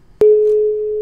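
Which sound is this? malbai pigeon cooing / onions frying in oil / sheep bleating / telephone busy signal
telephone busy signal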